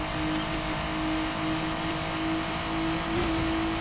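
Racing car engine from the video game Need For Speed Underground Rivals, an inline-four-like tone, holding a steady loud drone with a slight rise near the end.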